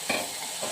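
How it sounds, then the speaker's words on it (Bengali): Neem leaves and eggplant frying together in a pan with salt and turmeric, a soft steady sizzle with a couple of brief stirring scrapes, close and fairly quiet, no talking. "নিম পাতা ফেলে দিলাম, দিয়ে এই নিমের সঙ্গে বেগুন আমি ভাজতেই থাকবো।"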